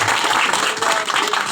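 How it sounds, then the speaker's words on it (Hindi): A crowd of devotees applauds loudly for the temple board at a Hindu community gathering, a dense, steady wash of many hands clapping at once with no break. "एक बार जोरदार तालियां उनके लिए आप लगाएं"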